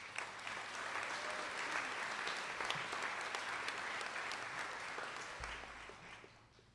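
An audience at a nurse pinning ceremony applauds steadily for several seconds, a dense, close wash of clapping that holds level before tapering off toward the end.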